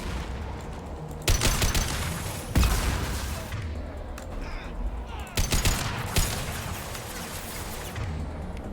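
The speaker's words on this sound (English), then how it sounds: "Whew, rockets." Rockets and gunfire from the video game Mass Effect 2 crack out in loud, repeated bursts, with several sharp booms and rattling volleys spread over the stretch and no voices.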